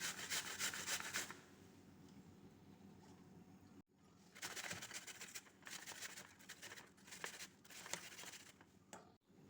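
A peeled apple is rubbed against a grater for a protein shake, giving close, rasping scrapes in rhythmic strokes. One long burst is followed by a brief pause and then another extended run, with no speech.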